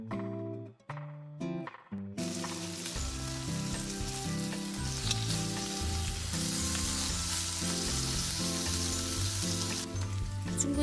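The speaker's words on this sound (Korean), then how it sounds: "자르지 않고 통째로 구울 거라 앞뒤로 바싹 익혀주세요." Pork belly seasoned with herb salt fries whole in a pan, a steady loud sizzle running throughout with background music over it and no talking.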